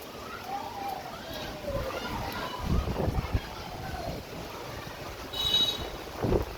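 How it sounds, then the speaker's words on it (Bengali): Gusty wind rushing and roaring with a steady wash of torrential rain in Sylhet, Bangladesh, fluctuating in strength, with faint voices underneath. "প্রচন্ড দমকা হাওয়া বয়ে যাচ্ছে সাথে বৃষ্টি মুসলধারে বৃষ্টি হচ্ছে"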